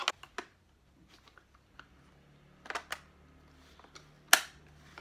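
A few light mechanical clicks and handling noises, then one sharp, louder snap as a robot cleaner's safety latch clicks into place near the end, close up and otherwise quiet.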